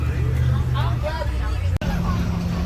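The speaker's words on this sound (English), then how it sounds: "Y'all can't hear us because this bus is loud in a mug" A loud, steady rumble of engine and road noise fills a moving bus heading back from Clementon Park & Splash World, with voices chattering over it and a brief dropout near the middle.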